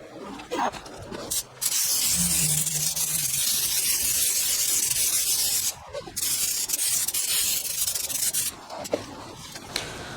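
A spray gun lays a base coat on a car being painted without a booth, a loud steady hiss close by that runs in long passes broken by brief pauses.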